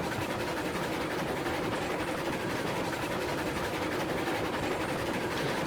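Steam locomotive rolling along at speed in the Railroads Online game, a steady dense rumble of running gear and rail noise with faint clicking, continuous and moderately loud with no talking.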